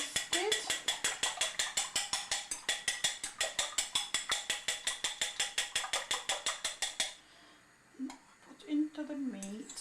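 An egg with diced onion is whisked briskly in a bowl, making a fast, even run of close, rhythmic clicking strokes for about seven seconds. The whisking then stops and a person begins talking.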